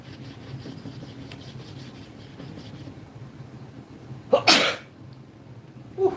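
In a workshop where chisels are being sharpened, one loud, close sneeze bursts out after quiet rubbing and handling noises. A smaller breathy burst follows near the end.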